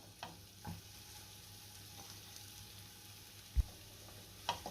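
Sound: dates frying in ghee in a wok

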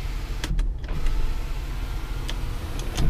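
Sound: power sunroof motor operating in Ford F150

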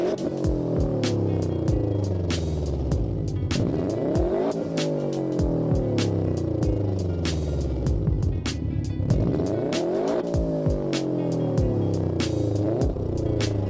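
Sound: car with a boxer engine

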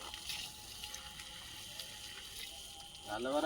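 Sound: water poured onto potted plants

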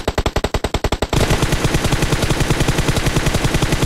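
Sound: continuous gunfire in video game PUBG

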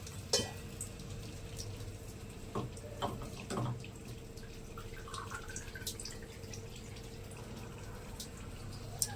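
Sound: water running from an Aquaguard water purifier in kitchen

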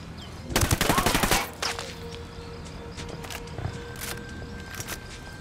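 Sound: gunfire in the video game Ghost Recon Wildlands

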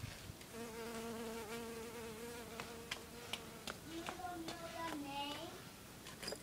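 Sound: Japanese leaf cutter bee buzzing

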